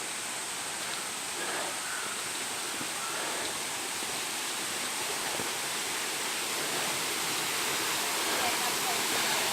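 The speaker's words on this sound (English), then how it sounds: "this is the waterfall that I was talking about that Jose discovered" Waterfall at Paronella Park, a steady, loud rushing roar of falling water that holds constant throughout, with no other sound standing out.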